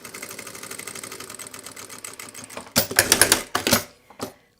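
Domestic sewing machine stitching lurex bias binding onto fabric for a passport wallet: a steady fast mechanical whir, then a few louder clattering bursts of stitching before it stops.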